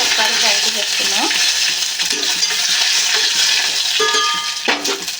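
Cumin seeds, dried red chillies and curry leaves fry in hot oil in a pan, a steady close sizzle and crackle running throughout, with the scrape of stirring and a few light metallic clinks of a utensil.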